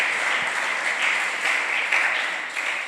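A church congregation applauds during a worship service, a dense, steady wash of many hands clapping at close range that carries evenly for the whole stretch without any voices.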